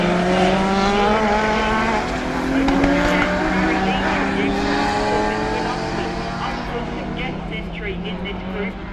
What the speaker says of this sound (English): Harold in the Beetle leads the way over the jump into the elbow